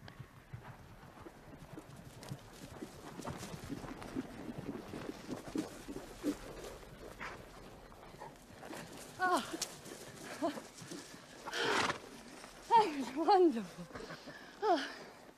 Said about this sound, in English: He saddled the horses.